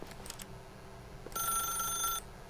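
A telephone ringing in The Stanley Parable, heard as one short, fairly faint electronic bell-like ring that lasts under a second, following quieter background tones.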